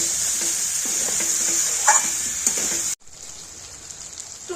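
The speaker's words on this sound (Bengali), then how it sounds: "এঁচড় আর আলু তো দেখতেই পাচ্ছেন ভালো মতো কষিয়ে নেওয়া হচ্ছে, তেল ছেড়ে আসছে" Raw jackfruit and potato stir-fry in hot oil with a steady sizzle, broken by scraping stirs and light clinks of a spatula. Partway through, the sizzle suddenly drops to a quieter, softer fry.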